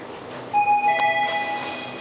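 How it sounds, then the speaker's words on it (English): A mobile phone rings inside a ThyssenKrupp hotel elevator at the W Hotel in Midtown Atlanta, a clear electronic melody of steady tones starting partway in and continuing over a quiet background hum. "That's my phone."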